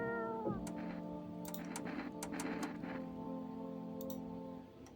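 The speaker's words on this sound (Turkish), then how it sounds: "Aa kedi var." A cat meows in the video game No, I'm Not a Human, with a sustained tonal cry running through most of the stretch over steady game ambience and scattered clicks.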